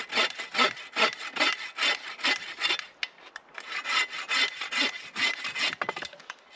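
A handsaw cuts through wood in steady back-and-forth strokes, close and rhythmic, with a brief pause before the sawing resumes.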